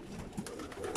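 Pigeons coo softly in a loft, with low, faint, repeated calls over a quiet background.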